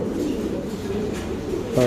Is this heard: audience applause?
no